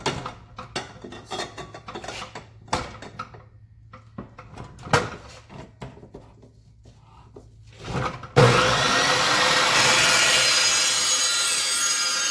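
A hand saw cuts through a section of a custom intercooler charge pipe for a Mitsubishi Evolution in irregular rasping strokes, then a steady loud power-tool hiss takes over near the end.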